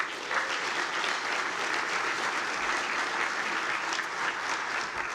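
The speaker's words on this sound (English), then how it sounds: "So can we please give the board another round of applause?" An audience at a university alumni dinner gives a round of applause, a dense, steady wash of many hands clapping that continues evenly for several seconds in a large room.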